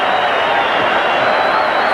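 Rugby league crowd noise from Widnes fans at a Widnes v Canberra match, a loud continuous roar and cheer from a packed stadium, broad and sustained with no breaks.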